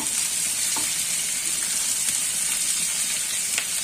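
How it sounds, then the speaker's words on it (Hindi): Onions frying lightly in a pan, a dense continuous sizzle heard close and fairly loud, with a couple of faint stirring ticks and no speech. "इनको अच्छे से हमने फ्राई करना है। बिल्कुल लाइट करना है, ज्यादा नहीं करना"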